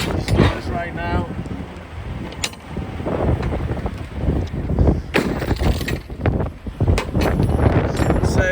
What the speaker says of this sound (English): It's a blizzard. It is windy.